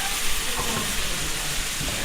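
Food fries in a pan during home cooking, giving a steady close hiss and crackle that continues unbroken for a couple of seconds.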